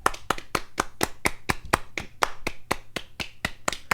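Hands clapping in a steady, fairly quick rhythm, about twenty sharp claps close to the microphone, with no talk over them.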